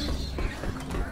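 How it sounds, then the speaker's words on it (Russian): A weapon reloads in Left 4 Dead 2: a brief burst of mechanical clicks and a creaking metallic rattle, close and fairly loud against a noisy background. "Перезаряжаю."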